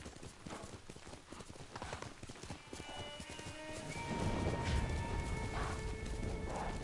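Hooves clip-clop steadily as a horse is ridden in Ghost of Tsushima, a close, regular beat under ambient game music that builds in the second half, with no talking.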